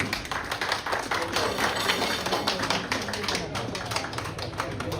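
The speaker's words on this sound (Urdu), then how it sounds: "آپ کی بھرپور تالیوں میں شہباز کھٹانہ صاحب" A community gathering of the Nandowal diaspora in Barcelona greets a guest speaker with dense, lively applause, close and continuous for several seconds, with voices mixed into the clapping.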